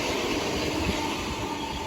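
A train passes at Thanet Parkway station with a loud, steady rush of wheel and motor noise that fills the whole short stretch, without speech.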